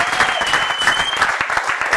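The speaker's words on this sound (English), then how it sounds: "Give yourselves a round of applause for that." A comedy club audience in Rohnert Park, California, clapping in a dense, brief burst of applause while a voice speaks over it.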